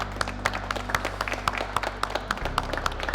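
Scattered hands clap in an irregular rhythm at a young adult furniture-making invitational, fairly faint over a low steady hum that cuts out partway through.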